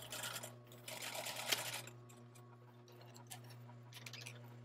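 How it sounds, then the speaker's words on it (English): A sewing machine stitching a lapped zipper, a steady buzzing run for about two seconds over a constant hum, then quieter clicks and handling as the stitching slows. "and continue sewing."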